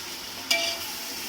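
Tomatoes stirred into softened frying onions for a chicken dum biryani, a low steady sizzle broken by one sharp scrape or clink of a utensil partway through.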